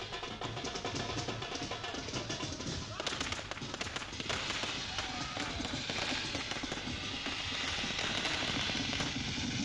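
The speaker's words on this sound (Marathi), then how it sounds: "समर्थकांनी फटाके फोडून आनंद व्यक्त केला" Firecrackers burst in dense rapid crackling volleys at a political celebration in Jalgaon district, loud and continuous, thickening after the first few seconds amid crowd noise.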